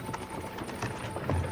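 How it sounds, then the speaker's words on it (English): Horse hooves clip-clopping along a road in Kingdom Come Deliverance II, a steady, faint rhythm of soft hoof beats with low background noise. "Can't you make the horses go a little faster, Grandpa?"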